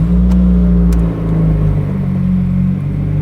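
A car fitted with a new Tomei Expreme Ti titanium exhaust and Grimmspeed catted J-pipe idles loud and close just after start-up, a deep steady rumble that dips slightly around the one-second mark and then settles.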